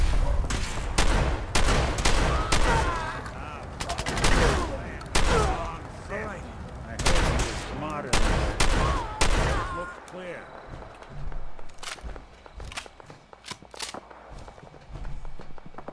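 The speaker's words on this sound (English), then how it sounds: "Somebody's shooting somewhere." Gunfire in the video game Fallout 4 Far Harbor rattles in rapid volleys of sharp shots for about ten seconds, then thins to scattered distant pops, with a player talking over the action.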